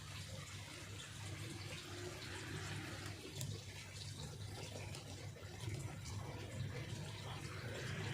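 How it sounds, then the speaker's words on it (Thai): Tap water running steadily at close range from a garden faucet, a constant broadband rush with slight fluctuations throughout, no voices. "ผมไปเปิดน้ำแป๊บนึง"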